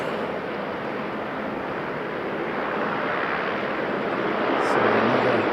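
Rex regional airliner engines start up at Sydney Airport, a dense, steady engine roar that builds slightly near the end.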